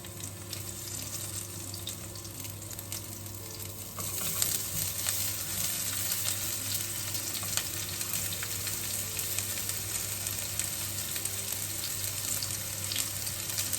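Onion frying in hot oil in a pan, a steady close sizzle and crackle that grows louder partway through and keeps going without talk.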